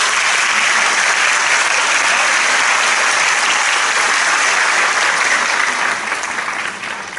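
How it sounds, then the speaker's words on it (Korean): Sustained, loud applause from a large audience at a university president's inauguration ceremony and thanksgiving service, a dense even roar of clapping that thins slightly toward the end. "이 자리에 그분들을 위해서 우리 박수 한번 치고 넘어갈까요?"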